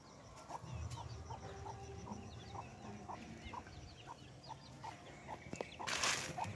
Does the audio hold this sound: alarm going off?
no